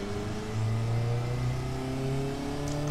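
A car engine idles with a steady low hum that swells slightly partway through and stays fairly loud and close, with no voices.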